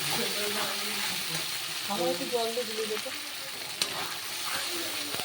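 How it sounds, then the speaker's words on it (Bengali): A spice paste of onion, ginger, garlic and ground cumin and chili fries in a pan, sizzling steadily and close while a spoon stirs and scrapes through it. "এবার আমি জিরে লঙ্কা বাটাটা দিয়ে দিয়েছি। এবার আবার ভালো করে মশলাটাকে সুন্দর করে কষিয়ে নেব।"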